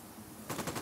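A short, rapid burst of automatic gunfire rattles in Ghost Recon Wildlands, starting abruptly after a near-silent moment and sounding fairly faint.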